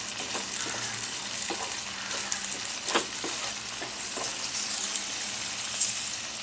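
Matar puri stuffing sautéing over medium heat with a little salt, giving a steady close sizzle broken by occasional scraping stirs of a spoon against the pan.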